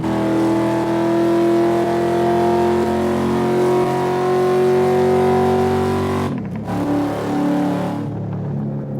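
Turbocharged car converted from automatic to a four-speed manual, running low boost, roars with a loud sustained engine tone that climbs steadily, then breaks off around a shift before pulling again, with no talk over it.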